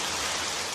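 Cartoon rain effect: a dense, even hiss of rainfall, brief and continuous with no other sounds.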